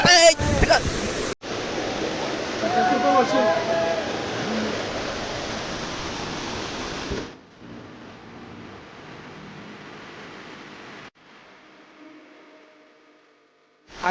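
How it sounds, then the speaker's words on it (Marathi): A waterfall gives a steady, broadband rushing roar that stays loud for several seconds, then drops to a quieter, more distant wash of water that fades toward the end. "असं एक वॉटरफॉल आहे."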